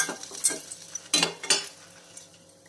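Roasted gram and tamarind with a little chilli dry-roasting in a pan over low flame, giving quiet scraping stir strokes and soft rattles with a few sharper bursts near the start, with no talking.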